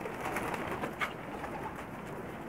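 Soft cooing from a Sharmeela pigeon, a Pakistani fancy breed crossed with a black-faced crested pigeon, heard close by as low rumbling coos over steady background noise, with no talking.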